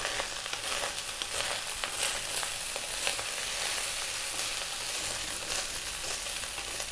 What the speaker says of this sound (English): That is your rice frying.